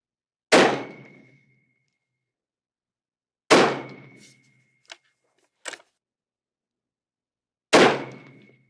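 A Savage GRS10 rifle firing 6.5 Creedmoor 140 grain match rounds at a bench: three sharp, loud shots spaced several seconds apart, each with a ringing tail, plus two faint clicks in between.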